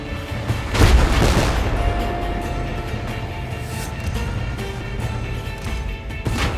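Tank cannon fire in the video game Tank Force on Renaissance Island: one heavy, close boom early on, followed by lower rumbling and scattered distant blasts, a sharper crack near the end, and radio chatter in the background.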